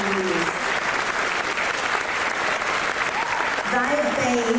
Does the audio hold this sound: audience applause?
yes